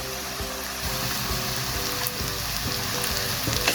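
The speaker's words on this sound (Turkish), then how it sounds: "Şimdi üzerine doğramış olduğum pırasalarını ekliyorum." Chopped leeks sizzle steadily as they're added to mushrooms in a hot frying pan, a constant crackling hiss with occasional soft knocks of pieces landing.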